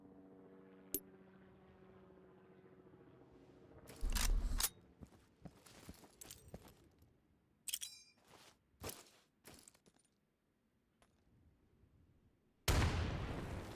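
A frag grenade goes off inside a building in the Insurgency shooter game, a loud blast at about four seconds, followed by scattered gunshots and clattering impacts, then another heavy burst near the end.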